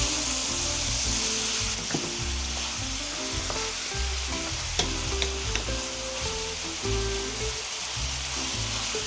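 Chicken sautéing with fish sauce in a pan gives a steady close sizzle and fry, with intermittent stirring scrapes and utensil clicks scattered throughout, no talk.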